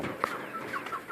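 Silkie chickens cluck softly nearby, a few short clucks and murmurs scattered across a quiet yard-like background, with one sharper cluck early on.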